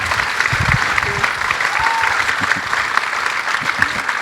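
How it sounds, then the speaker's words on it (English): An award ceremony audience breaks into steady, sustained applause, a dense wash of many hands clapping close and loud throughout, with faint voices underneath. "let's give them a round of applause"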